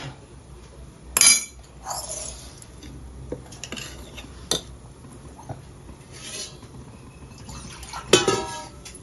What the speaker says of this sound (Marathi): आहे तवा ठेवला